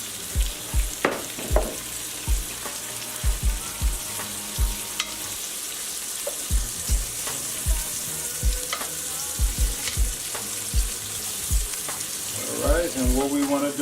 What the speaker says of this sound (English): I'm going to use some olive oil to put in there. Get these fried a little bit quicker.